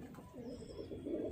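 Soft low cooing of a Rampuri pigeon kept as a high-flying fancy bird, a steady murmuring coo that swells louder toward the end, heard close with no talking.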